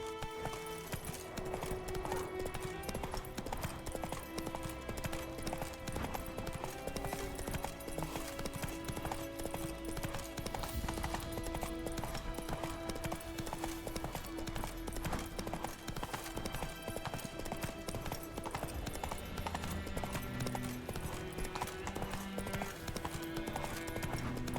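Roach, the horse in The Witcher 3: Wild Hunt, gallops with a steady, rapid run of hoofbeats, loud and close throughout, set against game music, with one brief whinny and no talking.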